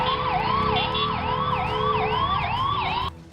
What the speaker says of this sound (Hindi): हालांकि एम्बुलेंस ड्राइवर लगातार सायरन बजाते रहे ताकि उन्हें आगे जाने का रास्ता मिल सके।